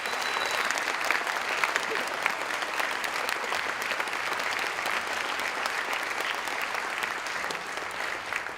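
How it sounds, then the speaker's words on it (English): Sustained audience applause fills a middle school 8th grade recognition ceremony, a steady dense clapping from a large crowd throughout, with faint voices mixed in. "Can we give them a round of applause?"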